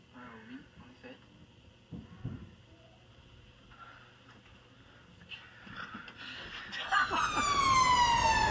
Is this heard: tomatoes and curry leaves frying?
no